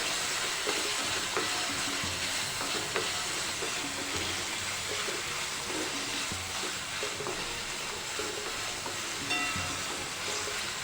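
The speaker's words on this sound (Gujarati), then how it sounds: "ટામેટાં સોફ્ટ થાય ત્યાં સુધી આપણે તેને કૂક કરવાનું છે" Tomatoes cooking down in a pan for a cashew paneer curry, giving a steady, dense sizzle and crackle with occasional stirring scrapes, close and continuous throughout with no voices.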